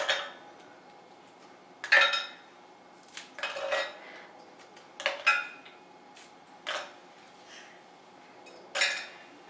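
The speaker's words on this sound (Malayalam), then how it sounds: "ഒരു മിക്സീൻ്റെ ജാറിലേക്ക് 8 ബിസ്ക്കറ്റാണ്, ഓറിയോ ബിസ്ക്കറ്റാണ് കേട്ടോ ആഡ് ചെയ്ത് കൊടുക്കുന്നത്" Oreo biscuits are snapped open and dropped into a mixer jar. Each piece lands with a sharp click or clatter against the jar, about eight separate taps spread unevenly across a quiet kitchen, with no talking.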